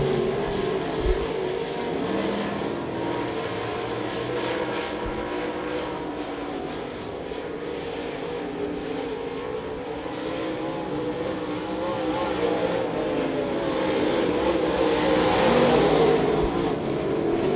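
Race cars lapping the oval at Devil's Bowl Speedway in weekly championship racing, a steady broad engine roar from the pack that swells slightly toward the end, heard from a distance.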